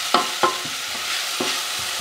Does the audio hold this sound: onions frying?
yes